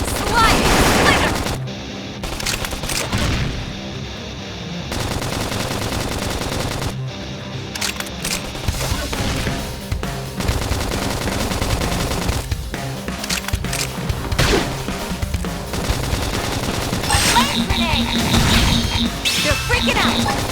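Rapid video game gunfire and impacts from a battle in Xenoblade Chronicles X: Definitive Edition, bursts of automatic shots, crashes and hits layered over game music, with voices calling out during the fight.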